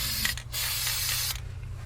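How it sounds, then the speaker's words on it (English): Gasket adhesive hisses from a spray can in a couple of light, short bursts near by, over a low steady hum while a Land Rover Freelander's coolant hoses and thermostat are worked on. "it's just a matter of just a little light spray"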